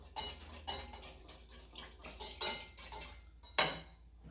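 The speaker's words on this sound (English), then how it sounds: "2 tablespoons of mayonnaise, half a cup of cream. Just gonna mix that together." A spoon clinks and scrapes against a bowl while mayonnaise and cream are stirred together for fish tacos, a quiet series of irregular taps with one sharper knock near the end, no talking.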